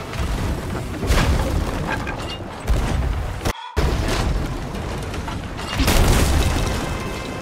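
Ship cannons firing in Sea of Thieves, loud booming blasts with crashing impacts across several seconds amid dense battle noise and ocean sound.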